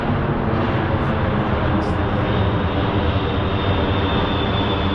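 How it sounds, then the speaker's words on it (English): A loud, low airplane coming in to land roars steadily overhead at Thaxted, Essex, its engine drone filling the whole stretch without letting up. "So this one here is a lot lower. What is that? So is it coming into land?"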